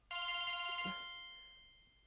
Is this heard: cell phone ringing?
yes